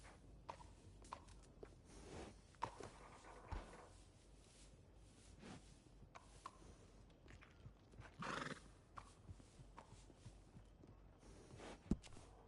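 In the Western game Red Dead Redemption II, a horse whinnies and snorts while hooves clip-clop unevenly on hard ground at a stable, quiet and intermittent with a few louder knocks and no one talking.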